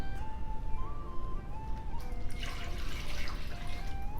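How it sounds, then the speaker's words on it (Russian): Three cups of water pour steadily into a cooking pot for kadhi pakora with a trickling, splashing sound, rising in brightness midway as the pot fills; no talking. "это мы добавляем воду. 3 чашки."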